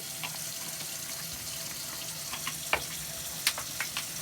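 Steady hot water running from a tap fills a sink for washing a silk scarf, a constant rushing hiss broken by a few small splashes and clinks.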